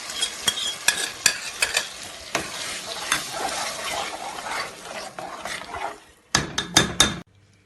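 Tomatoes hit a hot, sizzling pan for a stuffed-vegetable and chicken dish, with steady frying hiss and sharp spoon scrapes and taps as they are stirred, ending in a quick burst of close clanks.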